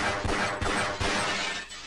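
Glass shot out by gunfire in Half-Life: Blue Shift shatters in a loud burst with sharp repeated crashes, dense and close, as shards keep breaking over about two seconds.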